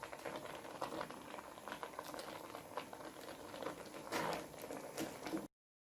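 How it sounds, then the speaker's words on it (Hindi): Bottle gourd (lauki) boils in a pot of milk for halwa, a steady bubbling and popping patter that carries on without a break, close and moderately loud, with no voices. "अब लौकी को बॉयल आ चुका है"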